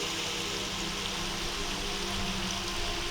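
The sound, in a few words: loud running water under bridge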